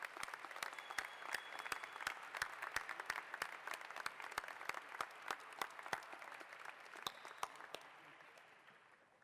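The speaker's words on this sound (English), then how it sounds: "Please join me as we applaud their support of and dedication to the success of our" Commencement audience applauding faculty at a Binghamton University fall ceremony, dense steady clapping from a large crowd in a hall with sharp individual claps standing out, fading gradually toward the end.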